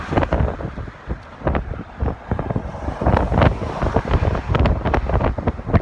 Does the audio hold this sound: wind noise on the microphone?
yes